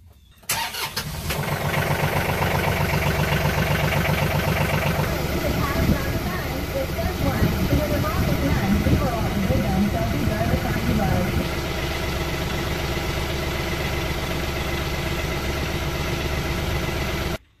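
A TYM T394 tractor's diesel engine cranks, catches and settles into a steady, loud idle with a rough, throbbing rumble that continues throughout.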